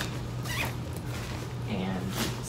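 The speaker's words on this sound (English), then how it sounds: "and then you just zip it up" A Gonex packing cube is zipped shut, the zipper teeth rasping in a couple of quick pulls close to the microphone.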